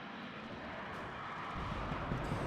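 Rocket-propelled jet aircraft in the WARNO wargame roaring overhead as it flies in, a steady broadband rumble that swells slightly toward the end, heard alone without talk.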